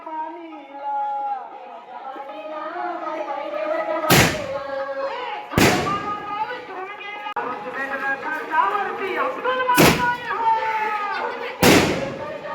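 Firecrackers at a puja go off in four sharp, loud bangs spaced a couple of seconds apart, each cutting through continuous nearby chatter and singing voices.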